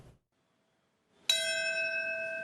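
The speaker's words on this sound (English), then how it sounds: "the sound of bells mixed with tearful moments of silence marked grief and remembrance" A single bell rings at a September 11th remembrance ceremony, struck once after a moment of silence, with a clear sustained tone that rings on and slowly fades.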